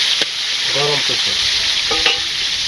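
Curry warmed in a pan on a village stove, a steady broadband sizzle with a few scraping stirs of a spoon against the pan, close and moderately loud, with short muffled voices briefly in the background.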